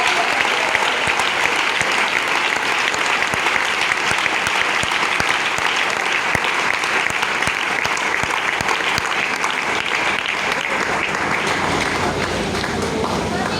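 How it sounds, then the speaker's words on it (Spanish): A church congregation at a general retreat applauds in a sustained, dense wash of clapping that holds steady and loud from start to finish, with no pause or letup. "Y ese aplauso al Dios de la gloria."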